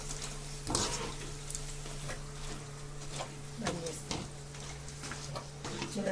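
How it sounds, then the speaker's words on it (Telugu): Buttermilk chillies frying in a pan in a village kitchen: a quiet sizzle with occasional clatters and stirring knocks over a low steady hum. "ఇప్పుడు వేయించుతాను చూడండి."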